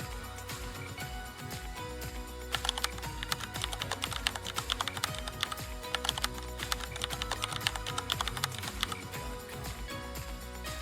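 Steady typing on a computer keyboard while entering a department name in stock-management software, a dense run of close clicks that grows busier and sharper after the first few seconds, with no talking.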